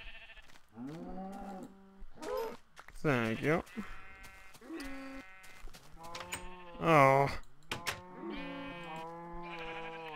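Repeated sheep bleats from a video game, wavering and overlapping, one after another at close range, with a voice briefly speaking between them.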